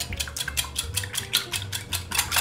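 A utensil whisks pancake batter with milk in a bowl for Danish beer pancakes, a brisk regular rhythm of scraping, clinking strokes against the bowl, close and alone without talking.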